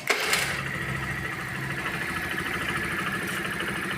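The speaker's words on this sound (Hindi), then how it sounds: "ये देख लें, ये स्टार्ट है बाइक।" A Honda Dio scooter's engine catches on self-start and settles into a steady, fairly loud idle close by, with a faint mechanical whir running through the whole stretch.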